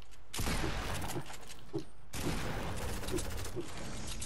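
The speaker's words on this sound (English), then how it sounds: "That's me shooting Deagle there." Desert Eagle pistol shots fired in Fortnite ring out as two loud, sharp cracks about two seconds apart, each followed by a dense wash of game action and gunfire.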